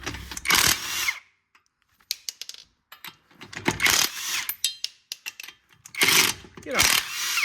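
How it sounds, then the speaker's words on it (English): Lug nuts coming off the front wheel of a 2004 Subaru Forester with a 19 mm socket, heard as three loud bursts of rapid impact-gun hammering with metallic clanks and rattles between them. "And take your lug nuts off."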